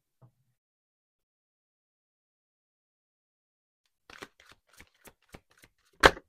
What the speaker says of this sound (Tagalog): Alamin natin sa ating baraha.